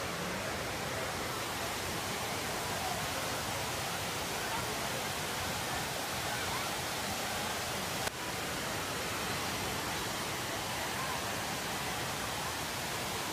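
A waterfall in Sierra Leone roars as a steady, dense wash of falling water, constant and full throughout with no voices.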